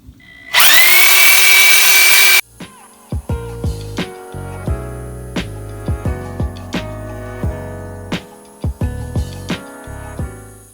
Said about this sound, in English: I got Matt over here with the Sawzall, and we're just going to cut it right off.